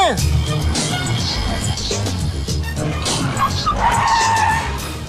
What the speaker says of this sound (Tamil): என்னடா வண்டி நிறைய வர சத்தம் கேக்குது?